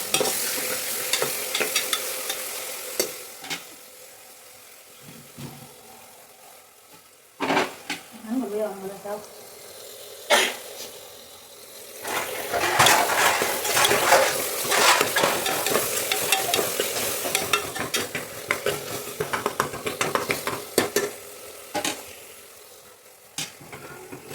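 Cut tomatoes fry and get stirred in a pan for mutton paya, with steady sizzling and frequent scraping strokes up close and a quieter stretch partway through.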